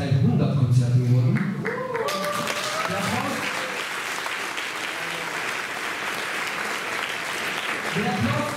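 Audience applause at a concert, steady and fairly loud across the whole span, with a voice speaking over it at the start.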